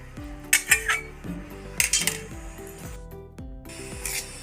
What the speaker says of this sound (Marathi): साखर आणि तेल आपण हे मिक्स करून घेऊया.